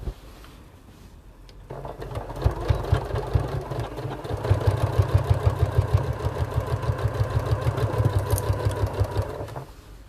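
A sewing machine stitching a bag handle starts after a short quiet lead-in and runs in a fast, steady mechanical chatter at close range before stopping near the end.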